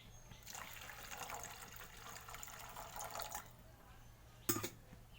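Spice-mixed water poured steadily into a bhola fish curry with mustard paste, a continuous close splashing stream for several seconds that stops, followed by one brief clatter.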